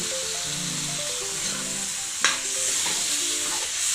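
Potatoes and spices fry in a pan and are stirred with a spoon, a steady close sizzle with soft scraping and one sharper clink partway through.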